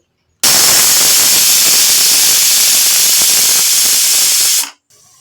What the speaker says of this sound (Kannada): ಕುಕ್ಕರ್ ಮುಚ್ಚಳ ಮುಚ್ಚಿ ಒಂದೇ ಒಂದು ಕೂಗು